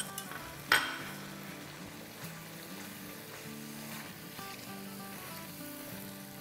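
Masala paste frying in oil for a green moong curry, a low, steady sizzle and bubbling close by, with one sharp utensil clink near the start and faint tonal hum underneath, no talking.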